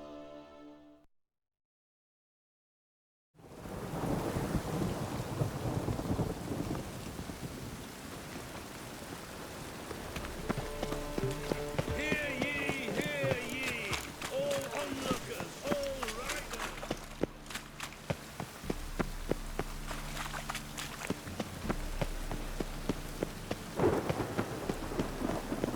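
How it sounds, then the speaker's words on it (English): Rain pours steadily over a city in the video game The Witcher 3, with low rumbling thunder rolling beneath it after a brief silence; background music and a speaking voice come and go over the storm. "Rain. The one thing that's ploughing free in this city. Awful weather."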